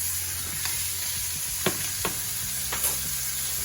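Steak sizzles in butter in a pan, giving a constant close frying hiss with a few sharp spoon or utensil taps against the pan and no voices.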